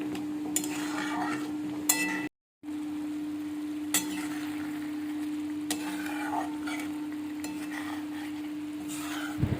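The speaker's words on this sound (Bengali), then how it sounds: "গ্যাসের একদিকে এদিকে চিকেন ভর্তা তৈরি হচ্ছে" Chicken bharta stirred and frying in a pan on a gas stove, a steady sizzle with occasional scraping and stirring clinks, close and moderately loud, with a brief dropout partway through.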